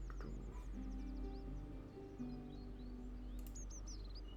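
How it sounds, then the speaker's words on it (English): Azure Tit call from the Wingspan board game, a few short high chirps and trills over a steady background tone with soft game music. "Azure Tit."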